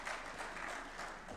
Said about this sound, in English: A clap for Francis Atwoli.